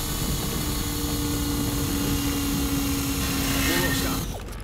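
A drill grinding into a hydraulic seal in Call of Duty Ghosts, a loud, sustained mechanical whine over heavy rumbling machinery that cuts out at the end.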